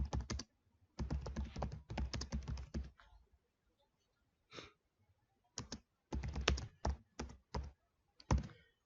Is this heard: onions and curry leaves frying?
no